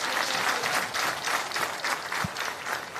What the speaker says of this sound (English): the crowd goes absolutely wild between points